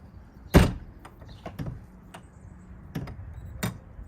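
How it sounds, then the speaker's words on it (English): A motorhome entry door on a 2023 East to West Entrada, fitted with a new RVLock, is pushed shut with its deadbolt left extended: one sharp, close thud, then several lighter clicks and knocks, with no talking. "I can't shut my door because I left my deadbolt out."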